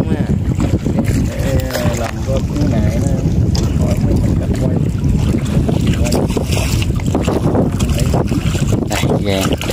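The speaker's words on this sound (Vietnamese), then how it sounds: "Sẽ lên ghe này và sẽ chạy ra hòn phía trước để mà trải nghiệm." A small wooden fishing boat motors out from an island shore toward an offshore islet, its engine chugging steadily and loudly throughout, mixed with wind buffeting the microphone and splashing water.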